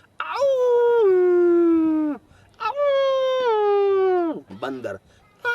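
A human voice imitates a jackal howl with two long, wavering, falling wails and a short yelping burst at the end.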